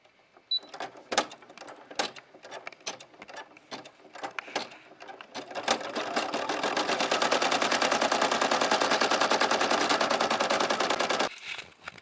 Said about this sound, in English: now this part is going to tack down the fabric. The machine is ready